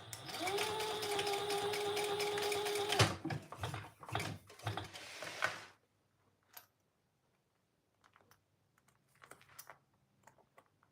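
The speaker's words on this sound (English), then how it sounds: "we're gonna sew on the connector right underneath the slit" Domestic sewing machine stitching a connector onto fabric below a slit: a steady fast whirring run for about three seconds, then short stop-start bursts, followed by quiet with a few faint clicks.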